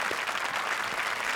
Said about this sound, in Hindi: जोरदार तालियां हमारे शरारती जजेस के लिए।